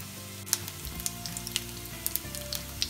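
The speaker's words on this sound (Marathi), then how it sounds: "वड्या आता त्या जरा चांगल्या फ्राईड होऊ देत।" Shepu (dill) vadi frying in oil, a close, continuous sizzle with scattered sharp crackles and pops spread across a few seconds, without any voices.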